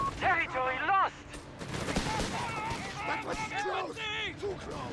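Battle sounds from Company of Heroes 3 with a 6-pounder gun in action: scattered gunfire and bursts under continuous excited talk, mixed with mechanical game noise.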